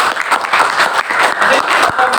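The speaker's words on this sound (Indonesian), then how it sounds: "Tepuk tangan." A classroom of students claps in a brief burst of dense, steady applause, close and fairly loud throughout.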